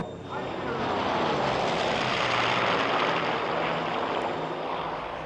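A Grumman F7F Tigercat with twin R-2800 radial engines flies by, its propellers giving a loud, sustained, broad drone that swells quickly and stays strong before easing slightly.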